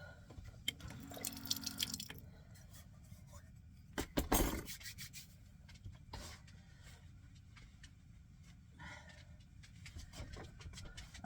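Kitchen tap water runs and splashes while a container is rinsed out, coming in bursts with a loud gush around the middle and quieter dribbling and clinking between.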